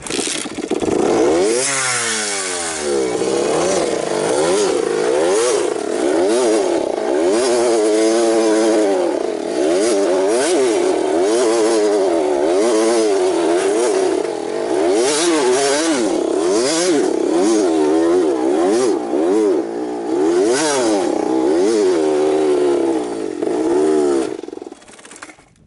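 A two-stroke 1991 Honda CR250 or CR80 dirt bike engine revs hard and repeatedly, its pitch rising and falling in a loud, rasping, continuous roar close by.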